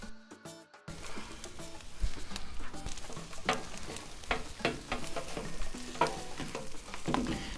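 Eggs sizzling on a flat-top griddle while being stirred and scraped with a spatula, a steady frying hiss broken by repeated metallic scrapes and taps, with no talking.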